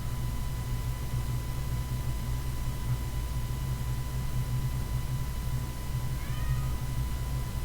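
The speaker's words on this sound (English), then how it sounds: "The cat is meowing for me to open my door" A cat meows to have a door opened, one short faint cry far in the background beneath a steady hum and hiss.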